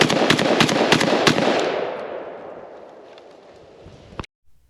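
A Vepr 12 shotgun fires a rapid string of about six loud, close shots from its magazine, then the echo decays through a long tail before one last sharp report.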